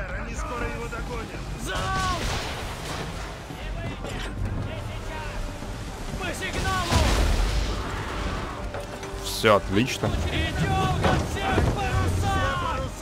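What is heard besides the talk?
sea waves and surf in Assassin's Creed 3 (video game)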